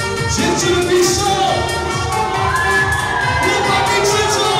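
Children shouting together at a wedding party, a loud continuous burst of excited high cries and cheering from a crowd, with dance music running underneath.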